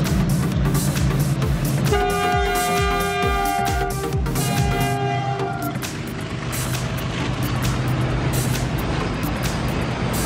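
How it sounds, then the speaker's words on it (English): A container train passes close with a continuous heavy rumble, while long, steady horn tones sound for a few seconds partway through. "Container train is a high-capacity railway vehicle that is used to transport containers of goods"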